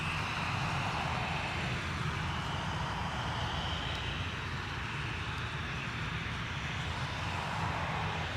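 A heavy airliner takes off from Dublin Airport, its engines a steady, loud broadband roar that holds constant from start to finish with no voices.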